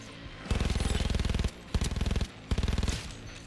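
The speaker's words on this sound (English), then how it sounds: "You can hear, you know, gunshots down below and stuff." Rapid automatic gunfire in the video game Cyberpunk 2077 rattles in three bursts, the first longest, each a fast string of sharp shots separated by brief pauses.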